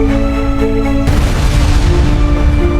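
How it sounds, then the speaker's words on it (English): A blast shatters a rock wall, a deep boom breaking in sharply over a steady droning background and then rumbling on into a dense, crackling tail. "The rock wall erupts, shattered into dust and fragments by the concussive force."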